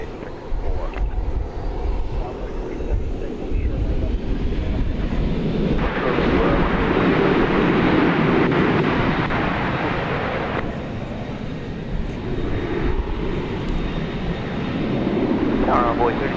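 An American Airlines jet on takeoff from runway 18 left at Dallas/Fort Worth airport, a broad steady engine roar that swells in the middle and again near the end, with radio chatter and wind buffeting the microphone.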